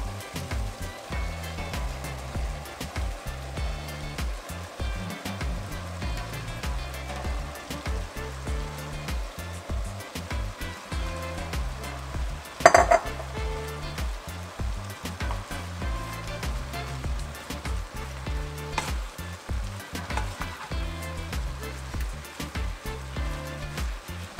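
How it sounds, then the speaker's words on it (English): Chopped Chinese cabbage fries in a hot pan, giving a steady, dense hiss and crackle at close range that holds evenly throughout, with one brief louder burst partway through. "1 medium Chinese cabbage we're adding here"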